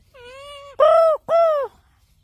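A parrot imitating a crow gives three loud, nasal caw-like calls in quick succession, close by, the first longer and thinner, the last two sharper and stronger.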